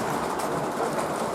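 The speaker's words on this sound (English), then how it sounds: "here you guys can see the train actually coming through the next section" An O gauge model SD60M-led auto rack train rolls steadily along a layout, a continuous close rumble and rattle of wheels on track with no pauses.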